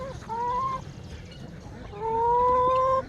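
Chickens give two drawn-out, slightly rising calls close by, separated by a short pause, over a low murmur of outdoor background noise.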